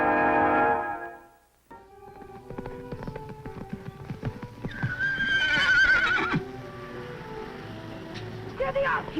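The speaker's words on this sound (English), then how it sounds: "a great wild horse and the only person on earth who can ride him" A great wild horse whinnies loudly in a ranch setting, its hooves clip-clopping steadily throughout, with a second shrill neigh rising midway over dramatic background music.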